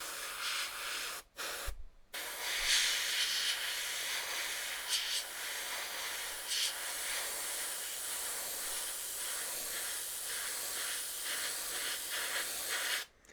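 A paint sprayer spraying primer hisses in a loud, steady spray that runs continuously for several seconds, broken only by a couple of brief pauses near the start.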